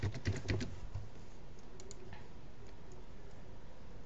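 Quick burst of keystrokes on a computer keyboard as a port number is entered, a cluster of crisp clicks in the first second, then a few faint taps over low hum.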